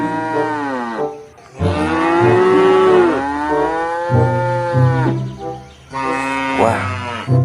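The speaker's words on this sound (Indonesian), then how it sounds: "ternyata ada induk sapi di sini mau masuk ke kandang kambing" A cow moos in several long, drawn-out calls, loud and close, with brief pauses between the lowing sounds.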